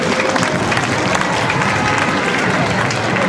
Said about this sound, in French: Un applaudissement, s'il vous plaît, pour encourager ces jeunes